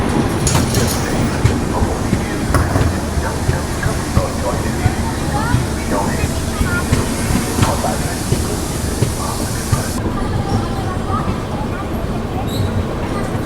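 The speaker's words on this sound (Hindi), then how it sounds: "कर्व क्या कर्व लेते हुए ट्रेन अपनी निकल रही है।" The Pune–Kanyakumari Express, led by a P7 locomotive, rolls around a curve with continuous loud rumbling and rhythmic clickety-clack of wheels, heard from aboard, with voices faintly under the noise.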